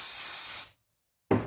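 Cleaner sprayed from a trigger bottle onto an Audi A4 B7 vacuum pump: one sustained close hiss, a pause of silence, then a second short burst.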